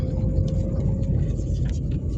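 Steady low road rumble from inside a car driving home from a market on a frosty morning in rural Ukraine, continuous and fairly loud with no talk.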